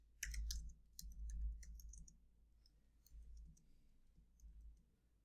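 Keys clicking on a MacBook keyboard while a Git commit command is entered, a quick burst of sharp taps early on, then sparser, fainter clicks spread over several seconds.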